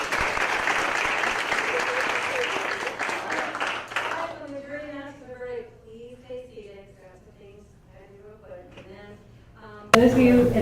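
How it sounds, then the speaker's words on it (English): Loud applause from an audience at a university mock trial event fills the first few seconds, then fades as a person begins talking over the quieting room. "They deserve another round of applause."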